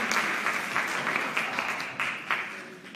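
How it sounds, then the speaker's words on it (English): Audience applause at a spring college orientation session, steady dense clapping from a crowd that holds for the whole stretch, with a few sharper bursts near the end. "let's give Miss Scarcliffe a round of applause"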